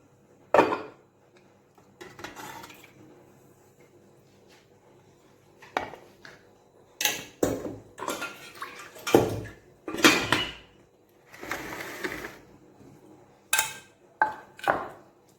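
A cooled idli steamer being opened and its metal plates handled, producing sharp, close clanks and clatters in irregular bursts separated by short quiet gaps.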